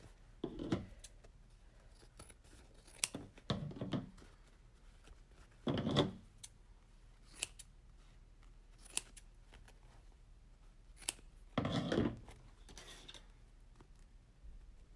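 Scissors snip through a KN95 face mask, with several separate crisp cuts spaced a few seconds apart, close by and fairly quiet, with no talking.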